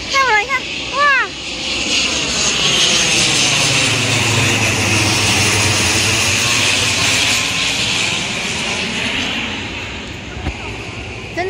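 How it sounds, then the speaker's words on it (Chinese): An airplane passes low overhead, its engine roar swelling to a loud, close peak with a sweeping pitch shift before fading away. Excited voices call out at the start. "真的飞机耶！"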